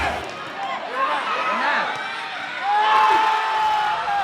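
Spectators cheer and whoop at a beach volleyball championship at Subic Bay Freeport Zone, NCAA Season 100, a lively crowd roar rising in bursts with shouts over it while people talk nearby.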